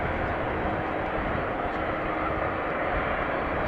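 A Saudia Cargo Boeing 747 taxiing toward the threshold of runway 18 at Amsterdam Schiphol on a windy day, giving a steady, even broadband engine roar with no change in level throughout.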